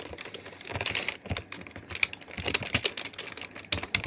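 Code is typed on a computer keyboard in quick, uneven bursts of close, crisp key clicks with brief pauses, and no voice over them.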